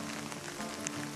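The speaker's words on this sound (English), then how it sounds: "it's just pretty steady rain" Steady rain falls on a forest trail in the Smoky Mountains, a soft, even hiss of drops with no pauses, heard alone for a brief moment.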